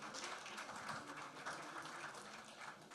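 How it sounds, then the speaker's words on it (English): An audience at a ceremony honoring an engineer applauds continuously, a dense, even patter of clapping heard from a distance and fairly faint, with no voices on top. "Clap very well now."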